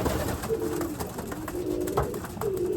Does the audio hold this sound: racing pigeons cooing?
yes